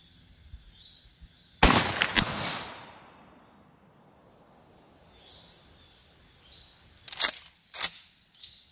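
A 12 gauge shotgun fires a sabot slug outdoors. One loud, sharp blast echoes and fades over about a second. Quieter mechanical clicks and clacks follow several seconds later, with insects faintly audible in the background.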